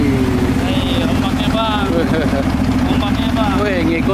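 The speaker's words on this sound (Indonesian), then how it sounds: "itu ada kapal boot. Kenceng ini." A speedboat passes on a river near Palembang, its engine roaring close by with a steady, loud drone while people on a nearby boat talk excitedly over it.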